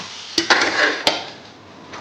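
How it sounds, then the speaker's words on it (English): Kitchen knife cutting potatoes during a home cooking session, a few sharp clicking knife strikes against the board spaced irregularly, close and fairly loud with no talking. "I will start off with this potatoes. I will just cut."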